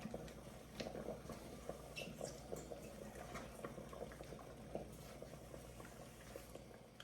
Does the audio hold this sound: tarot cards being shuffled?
no